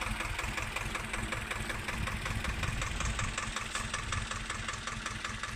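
A mini tractor engine running steadily while forming ridges in a cumin field, a close, continuous mechanical chug and rattle with no pauses and no talking.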